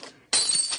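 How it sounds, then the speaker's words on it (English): Glass breaking on a fire alarm box: a short, sharp shatter bursts in after a brief quiet lead-in and rings bright and close for the rest of the moment. "I have to break this glass."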